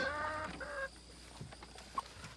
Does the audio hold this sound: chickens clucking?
yes